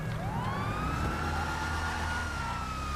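Wailing police siren on the Gauntlet Interceptor police muscle car in the GTA Online video game, a steady loud rising and falling tone layered over a constant low engine rumble.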